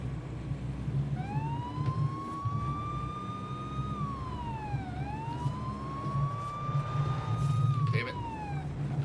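A police-style siren on a car in the Forza racing game wails in long rising and falling sweeps over a steady engine drone and road rumble.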